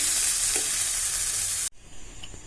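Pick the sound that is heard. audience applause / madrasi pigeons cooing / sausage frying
sausage frying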